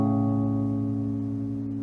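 Two sustained tones sounding together in a 5:4 tonic-to-mediant major-third harmony, a steady clean chord of stacked harmonics held evenly for about two seconds and fading only slightly, with no voices.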